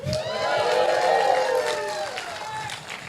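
A comedy show crowd claps and cheers for National Humour Month, a loud, continuous wash of applause with whoops and a voice riding over it.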